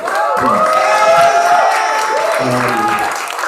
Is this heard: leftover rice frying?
no